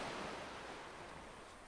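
A steady, dense wash of rushing water from a water feature in the video game MMORPG Tycoon 2, even and continuous like ocean surf, with no voices.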